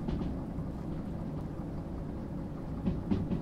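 Train rolling and gathering speed downhill in the railway game Derail Valley, a low continuous rumble with faint rattling that stays even throughout, with a few louder clunks near the end.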